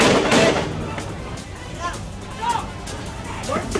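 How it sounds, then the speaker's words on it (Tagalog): Sharp gunshots pop in quick succession over a noisy, agitated crowd during a clash with thrown bottles and rocks in a Caloocan City compound, with voices talking throughout. "umalingaw-ngaw ang sunod-sunod na putok ng baril"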